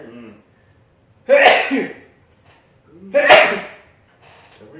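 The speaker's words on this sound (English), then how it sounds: "I sneezed away from you." Two loud, close sneezes about two seconds apart, each a sharp burst, with quiet breathing between; brief murmurs of a voice at the start and end.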